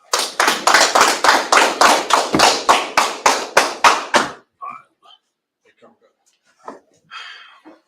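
A few people clap in rhythmic unison at a Chicago scripture class, about a dozen sharp, loud claps in quick succession that stop abruptly, followed by faint scattered knocks and murmurs.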